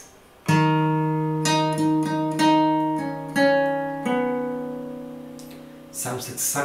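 Fingerstyle acoustic guitar playing a measure of a song, several plucked chords and notes ringing together close and clear, ending in a brief noisy rustle.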